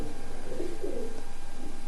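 A pigeon hen coos in a low, rolling murmur near the middle, over a steady hum of background noise, with no one talking.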